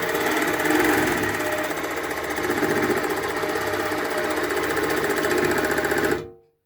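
Longarm quilting machine stitching along a ruler template, a steady rapid mechanical chatter of needle strokes running loud and continuous for about six seconds before cutting off abruptly.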